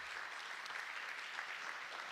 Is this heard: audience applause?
yes